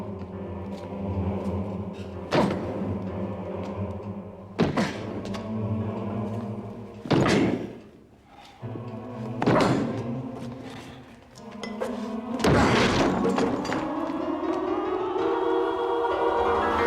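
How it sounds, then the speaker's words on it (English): Locked wooden study doors in a house being forced open, with repeated heavy thuds and cracking impacts spaced a couple of seconds apart, the last blow ending in a longer splintering crash, all under a dramatic orchestral score. "These doors must be broken open immediately."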